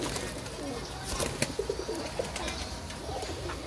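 Sialkoti pigeons kept on a rooftop coo in a few soft, low, rolling phrases with scattered light clicks and rustles, heard fairly close over steady ambient noise.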